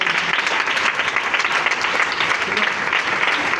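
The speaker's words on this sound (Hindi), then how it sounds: "एक बार जोरदार तालियां तमाम मेहमानों के लिए बजा देंगे" Guests at a whole-night prayer meeting get a loud, sustained round of applause from the gathering, dense clapping that carries evenly from start to finish.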